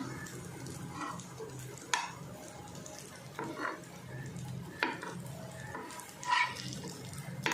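Corn tikkis being turned over in a frying pan on a lowered gas flame: a quiet sizzle under scattered clinks and scrapes of a spatula against the pan.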